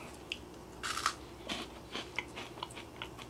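Bites into homemade freeze-dried strawberry brittle sprinkled with sugar, giving a few close, crisp cracks followed by softer crunching chews in an uneven rhythm, quiet and without talking.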